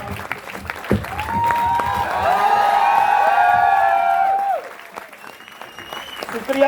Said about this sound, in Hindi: मेरे लिए ताली बजा दो एक बार